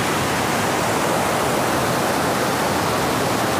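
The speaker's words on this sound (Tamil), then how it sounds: "காட்டாற்று வெள்ளத்தோட சவுண்டு இதுவரைக்கும் நீங்கள் கேட்டிருக்கீங்களா?" Rushing floodwater of a forest river in the Western Ghats after heavy rain, a dense, steady roar of churning water, loud and unbroken, with no voices.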